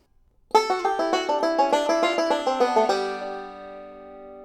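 A quick banjo lick of rapid plucked notes in an even rhythm, ending on a ringing chord that fades out; played solo and close.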